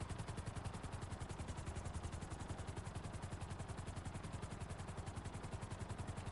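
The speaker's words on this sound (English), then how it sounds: "You just follow the helicopter" A helicopter in GTA Online drones steadily with a fast, even rotor chop, heard continuously and fairly faint, with no talking over it.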